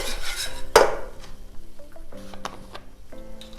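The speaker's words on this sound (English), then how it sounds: "And just keep the whole thing moving and keep it stirring" A whisk stirs a flour roux with milk in a pan for four-cheese macaroni and cheese, making close, irregular metallic clinks and soft scraping over a few seconds.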